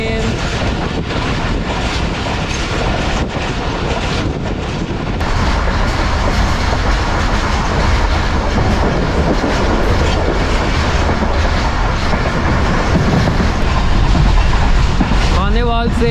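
Shalimar Express train running toward Kalanchwala station, a loud continuous rumble with rhythmic clickety-clack of wheels and wind buffeting the microphone throughout.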